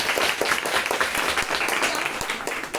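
Classroom applause from a group of eighth-grade students during a lesson, a steady wash of many hands clapping close by for nearly three seconds, with no talking over it.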